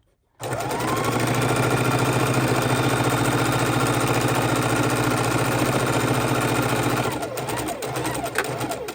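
A sewing machine runs steadily at speed, stitching down a log cabin quilt block made from scraps, a loud continuous mechanical whir close by that slows and stutters near the end.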